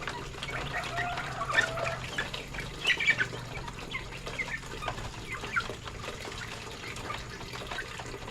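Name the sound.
chickens clucking in a coop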